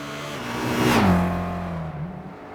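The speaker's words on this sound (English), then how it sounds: "Although it doesn't really sound like mechanical V8, it's a little bit computerized, but still it could be way worse." Computerized-sounding V8 car engine in the Gran Turismo 5 racing game, revving up to a loud peak and then holding a steady drone as it eases off, with no voices.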